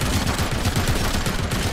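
Sustained cover gunfire in RoboCop Rogue City, a rapid automatic rattle of shots pounding steadily and loudly without a break.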